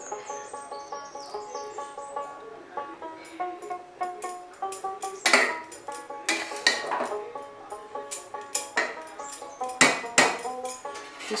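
A metal lid clinks and knocks onto a pot of coconut rice, sharp ringing metallic taps and clanks scattered irregularly, close and fairly loud, with softer utensil clinks between them.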